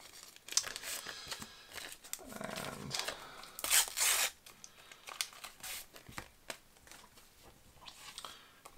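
Sticker packets being torn open and their wrappers crinkled, a Panini Euro 2020 preview set, close and crisp with bursts of tearing and rustling, loudest in the middle, with a few faint words of talk.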